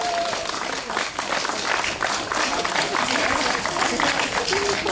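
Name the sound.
crowd applauding at a speech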